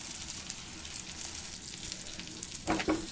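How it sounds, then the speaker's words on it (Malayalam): Chili powder, fish masala and coriander fry in oil over low heat, a soft steady sizzle close by with a brief stirring scrape near the end, no voices. "ഈ ഒരു എണ്ണയിലൊക്കെ കിടന്ന് നന്നായിട്ടൊന്ന് ഒരു പച്ചമണമൊക്കെ ഒന്ന് മാറുന്ന വരെ നമുക്ക് നന്നായിട്ടൊന്ന് തീ കുറച്ചിട്ടിട്ടൊന്ന് വറുത്തെടുക്കാം."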